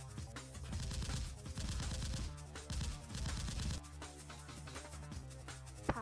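Dense rapid gunfire bursts as a sound effect in an action film scene, a thick continuous rattle of overlapping shots with heavy low rumble, easing slightly near the end, with no talking.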